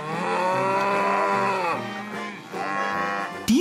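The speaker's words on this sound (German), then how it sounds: "Diese Kühe hier sind bayerische Kühe, die in Hessen stehen." Bavarian cows grazing on a pasture moo loudly and close by, one long drawn-out low moo followed by a second, shorter call, with no voices around them.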